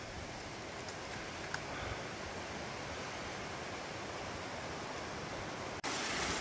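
Steady broadband rush of Glacier Creek, a steep mountain side creek tumbling over slaty rock, heard up close and loud without pause for about six seconds, with a brief dropout near the end.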